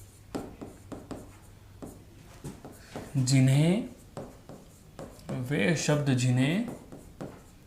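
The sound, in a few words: writing a definition on a board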